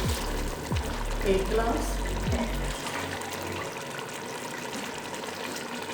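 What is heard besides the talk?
water poured from a glass into a cooking pot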